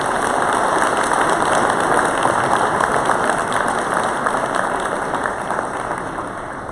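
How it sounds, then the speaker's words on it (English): Sustained applause from a gym dedication audience, dense and loud clapping that holds steady throughout and tapers only slightly toward the end. "I'd like to all give him a round of applause for all of his hard work in making this happen."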